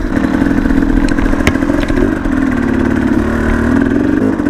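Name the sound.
dirt bikes riding over tough terrain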